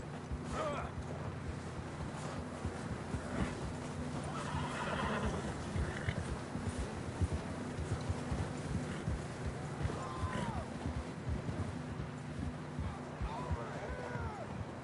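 Horses whinny now and then over a steady rumble of galloping hooves in Red Dead Redemption 2, with some talking mixed into the busy background.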